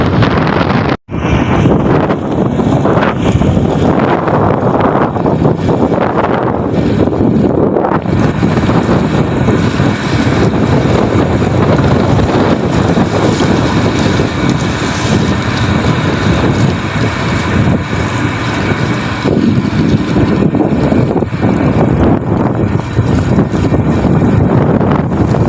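Strong wind roars steadily across the microphone aboard the rocking bunker ship Chung Yu No.1, a loud, continuous buffeting rush with a brief dropout near the start, with no talk over it.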